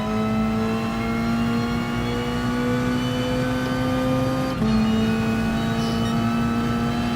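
In a racing video game on the Circuit de Sainte Croix B track, a race car engine holds a loud, steady high drone at full power with a brief shift-like dip partway before pulling on again.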